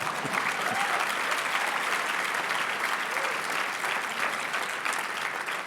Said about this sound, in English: I would applaud some more.